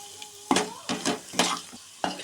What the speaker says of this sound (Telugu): నేను బాగా స్మాష్ చేసి అయితే చూపిస్తాను మీకు